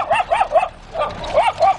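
A dog in Ethiopia barks rapidly, two quick clusters of sharp, close barks separated by a short pause.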